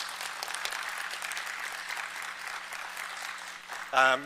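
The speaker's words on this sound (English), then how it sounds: "So let's give Trustee Keynes a big round of applause as well." A crowd applauds steadily with dense clapping for several seconds at a school board meeting, then a voice briefly starts speaking near the end.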